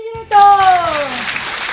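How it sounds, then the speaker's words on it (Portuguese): Brief applause on a TV cooking show starts after a short spoken exclamation and carries on as a steady, close patter of clapping, with a few voices over it. "Palmas pra gente"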